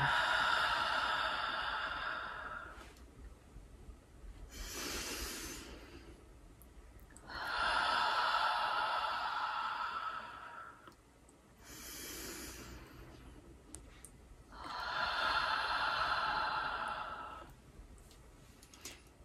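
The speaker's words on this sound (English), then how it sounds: "let's take 3 deep breaths in and exhale" A group at a prayer gathering draws three slow, deep breaths in and lets each out in a long, airy exhale, the breaths rising and falling in a steady rhythm with no talking.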